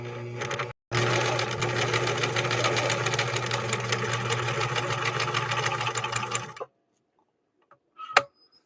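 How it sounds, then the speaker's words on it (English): A 1963 Husqvarna Viking 19E sewing machine with a Schmetz double-eye needle stitches at regular speed, a steady rapid mechanical chatter after a brief pause, then stops, followed by near silence and a couple of small clicks. "And this one this one I'll sew at the regular speed as well."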